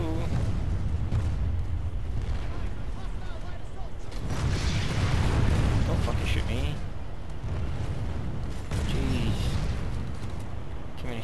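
Tank cannon fire and explosions in a Planetside 2 battle, a dense, loud, continuous barrage of rumbling booms that swell and overlap with no pause across the whole stretch.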